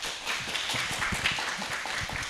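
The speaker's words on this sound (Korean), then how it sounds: "큰 박수로 환영 부탁드립니다" An audience at an indoor retirement-planning lecture concert applauding to welcome a speaker, a dense steady patter of many hands clapping close and fairly loud, without talk.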